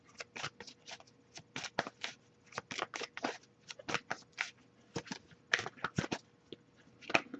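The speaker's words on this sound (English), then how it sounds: "I'll give it a few more shuffles before I move on" Repeated crisp riffling bursts of tarot cards being shuffled, quick flurries in an irregular rhythm, close and fairly quiet with no talking.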